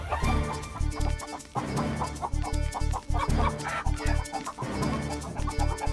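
A hen clucks rapidly and loudly close by in a royal court scene, its sharp clucks coming in quick bursts alongside rhythmic background music, with no talking.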